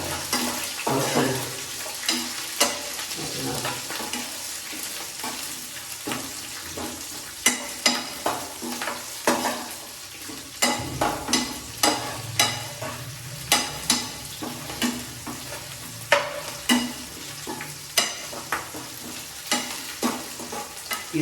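Green chillies sizzle in hot oil in a pan for fish curry, with a steady frying hiss and frequent close clinks and scrapes of a spoon stirring against the pan.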